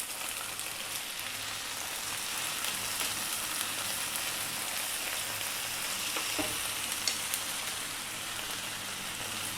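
Tomato frying over high heat with onions and garlic ginger paste for dal tadka, a dense continuous close sizzle with faint stirring ticks throughout and no voices.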